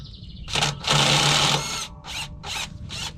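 A power tool whirs in short bursts while backing a bolt out during a clutch replacement on a cabover truck: a brief spin, a longer sustained run, then several quick stuttering pulses, close and fairly loud.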